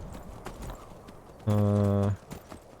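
Horse hooves clip-clop in Skyrim, the video game, as a steady run of soft hoof beats with a brief sustained tonal sound in the middle of the clip.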